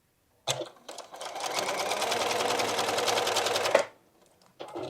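A sewing machine stitches a quilt block seam in one steady, close run lasting a few seconds, preceded by a couple of brief starts and ending abruptly before a short restart.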